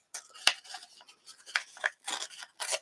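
Paper torn by hand for an art journal page, a quick series of short crisp ripping bursts, close and clear, separated by brief pauses.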